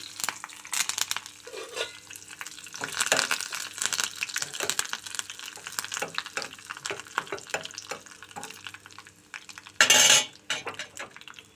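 Curry leaves sizzling and crackling in hot tempering oil after the stove is turned off, for pappu gongura, with sharp pops, a steady fry hiss and a loud spattering burst near the end, plus metal utensil clinks and scraping throughout.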